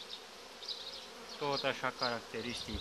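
Honeybees buzz faintly around an open beehive in early spring as frames of honey are inspected, a soft steady drone beneath someone speaking close by.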